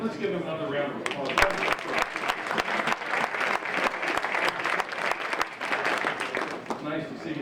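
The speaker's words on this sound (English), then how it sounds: "Let's give him another round of applause." Audience applause after a talk by Kentucky Secretary John Tilley, sustained and dense for several seconds with a few louder individual claps, while a voice speaks faintly underneath.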